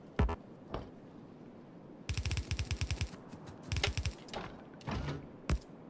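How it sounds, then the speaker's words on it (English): Laser turrets firing in a video game, rapid bursts of sharp pulsing shots in short volleys with gaps between, some single zaps, moderately loud against a quiet background. "Lots of laser turrets over here"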